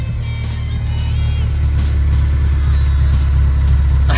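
A Toyota Celica with its exhaust system cut off revs loudly, a deep raw rumble droning steadily close by with a rasping, uneven tone and no talking.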